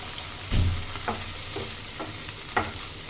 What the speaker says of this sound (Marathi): हे छान बटर मध्ये आपल्याला थोडंसं शॅलो फ्राय करायचं आहे